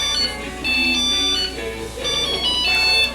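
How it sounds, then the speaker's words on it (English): A phone rings with a bright electronic ringtone during a comedy show, two bursts of repeated chiming tones separated by a short gap, loud and close with no talking over it. "I gotta answer this phone call."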